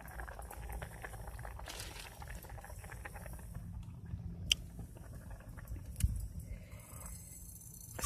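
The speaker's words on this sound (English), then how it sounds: "So it'll cook a few more minutes in the hot water." Noodles simmer in a pot of hot water on a propane stove inside a van, a faint, steady bubbling with a few small knocks and no talking.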